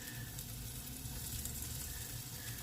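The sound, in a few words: turkey burgers frying in a pan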